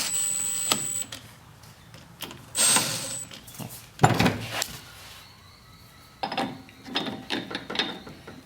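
Two screws are fastened on a 125cc pit bike engine's magneto stator, giving bursts of ratcheting tool clicks and metallic rattles separated by quiet pauses, close and fairly loud, with no talking.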